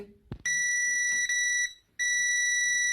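An electronic buzzer on a refrigerator thermostat test rig sounds a steady, loud, high-pitched tone that cuts out briefly near the middle and then resumes.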